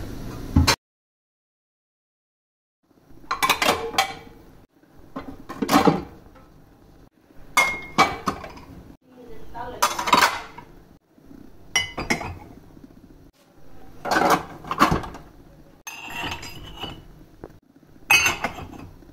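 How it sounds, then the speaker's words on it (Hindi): Dishes, pots and cutlery clinking as they are put back in place in a home kitchen, a series of separate sharp clattering bursts spaced a second or two apart, close and fairly loud. "ये बर्तन ना उनकी जगह पे सेट करके भी रखते हैं"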